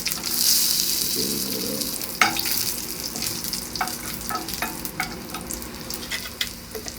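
Chili is stirred into hot oil in a pan while making Kerala-style sambar, a steady sizzle broken by a sharp scrape and a series of spoon knocks and clatters against the pan, close and fairly loud.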